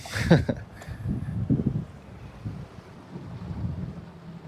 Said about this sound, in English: we got a little wind coming out of this cut here